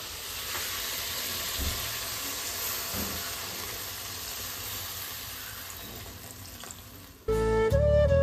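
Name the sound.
spice masala frying in a pan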